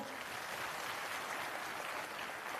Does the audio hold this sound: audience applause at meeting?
yes